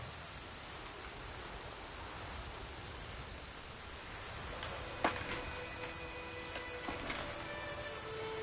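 Steady in-game rain hisses evenly across a battlefield in a fantasy video game, a soft continuous wash with a few faint tonal clinks and a small thump partway through.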